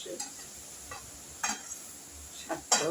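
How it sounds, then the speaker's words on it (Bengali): Cooking pot with fish and greens handled on the stove, a few separate metallic clinks and scrapes over a faint background, the last ones louder as a lid settles into place. "এবার আমি ঢাকা দিয়ে দিচ্ছি।"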